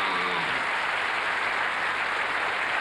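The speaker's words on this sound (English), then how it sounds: "Give a round of applause to Linda." A studio audience at a TV variety show applauds steadily, a dense, even wash of clapping that holds at the same level throughout, with no talk over it.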